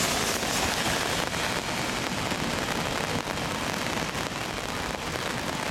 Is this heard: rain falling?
yes